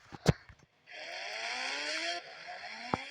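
A motorbike in the Indian Bike 3D video game revs up with a rising, buzzy synthetic engine whine that holds for a second or so before cutting off, preceded and followed by a few sharp clicks.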